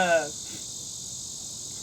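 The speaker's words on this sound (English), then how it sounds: "The cicada." Cicada buzzing outdoors as a steady high-pitched drone, constant and fairly loud throughout after a brief voice at the start.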